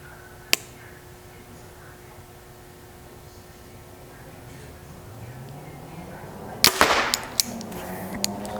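A Mathews VXR 28 compound bow is shot outdoors: after a quiet lull, one sharp, loud snap of the release lands, followed by a few brief clattering knocks. Earlier there is one faint isolated click.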